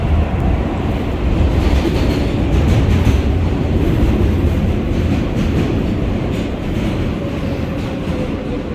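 An R143 L train on the New York City subway runs with a steady, loud rumble and roar of wheels on rail, a continuous wash of noise with no voices.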